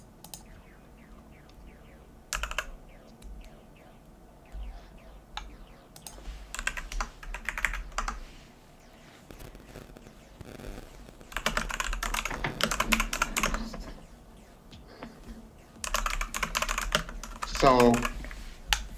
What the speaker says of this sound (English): I am now typing and I will just send you code